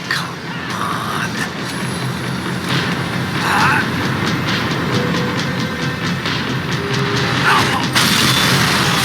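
Rumbling, clanking tram ride in Max Payne 3, a loud continuous mechanical roll with rattles and metallic knocks running the whole time, without speech.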